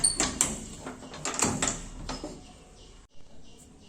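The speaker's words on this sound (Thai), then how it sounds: "เวลาที่เราดันประตูเข้าไปจนสุด แล้วเราก็ดันตัวสลัก มันจะเข้าล็อกง่ายขึ้น" A wrought-iron gate is pushed shut and its latch bolt slid into the lock, giving a close series of metallic clanks, knocks and rattles that fade into quieter scraping near the end.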